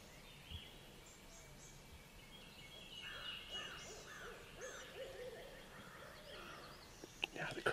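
Several owls hoot in a cluster of repeated calls, faint and distant, during a turkey hunt, with soft whispered talk beneath and a few clicks near the end.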